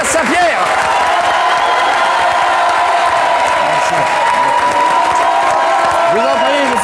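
A television studio audience applauds loudly and continuously for actor Omar Sharif, a thick wall of clapping mixed with cheers and occasional whoops, with a host's voice talking briefly over it.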